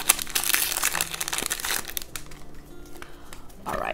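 A foil wrapper on a Pokemon card booster pack crinkles and tears close by as it is opened, in irregular bursts of crackling that thin out, then flare briefly again near the end.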